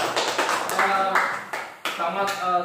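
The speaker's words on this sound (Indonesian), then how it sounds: "Tepuk tangan dulu untuk kalian semua" Classroom clapping for students during a teaching session, several bursts of hand claps in uneven rhythm with voices and cheering mixed in, moderately loud and close.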